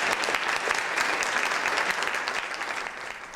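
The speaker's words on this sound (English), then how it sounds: "Give me a nice round of applause." Applause at a vintage surf auction in Hawaii: a crowd claps steadily and briskly after a board sells, then the sound eases slightly toward the end.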